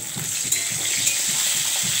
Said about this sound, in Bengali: এখন হচ্ছে পটল ভাজতেছি, আলু ভাজতেছি